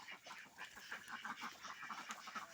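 A flock of ducks at a farm quacks in quick, overlapping bursts, fairly faint and close together with no voices.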